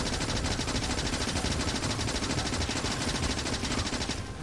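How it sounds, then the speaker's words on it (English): A submachine gun fires continuously at biters in Factorio, a rapid, dense, evenly spaced stream of shots, loud and unbroken for the whole stretch with no talk. "let's go shoot some biters for science. So there's the SMG."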